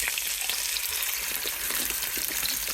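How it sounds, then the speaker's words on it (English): Pork chops browning in a pan, a loud, steady sizzle up close with faint crackles and no talking. "after I brown the pork chops, I will saute up the mushrooms"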